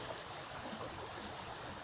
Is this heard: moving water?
yes